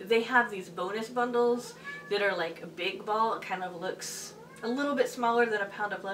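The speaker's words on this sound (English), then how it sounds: "Can you hear him meowing? That's my cat." A pet cat meows in the background while someone talks steadily over it, the meows faint and partly masked by her voice.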